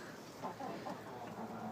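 Chickens in a farm layer flock that includes roosters cluck softly in short, repeated calls against a low, steady background.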